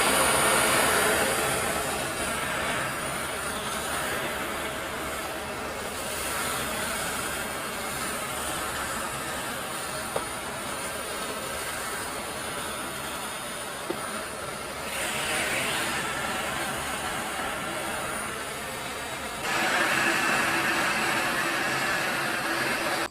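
A heat gun blows steadily on PVC pipe being shaped into a machete sheath, a constant close whooshing roar of fan and hot air that holds level throughout, with no talking.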